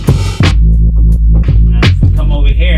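An MPC beat with pan automation swinging the mix hard right and then hard left, made of loud, punchy drum hits and a thick, humming bass layer, dense and close, with no voices.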